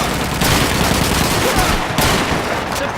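Suppressing gunfire in Call of Duty 2, a dense, loud and continuous barrage of rapid rifle and machine-gun shots, close and unbroken.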